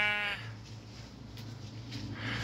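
Sheep bleats in a short burst at the start, with another harmonic cry rising near the end over a steady low hum, moderately close.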